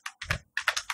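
Keystrokes on a computer keyboard in two quick bursts of clicks separated by a short pause, close and clear with no talking.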